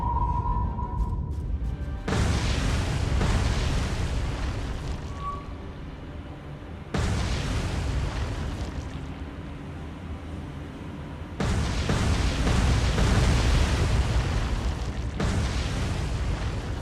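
Warship hits in the naval game War on the Sea set off three heavy, rumbling explosions in a row, each a sudden loud boom that rolls on for several seconds with no talk over it.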